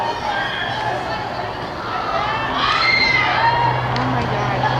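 Crowd of people at a ball game shouting and screaming, loud and sustained with cheering and babble, rising in intensity near the end.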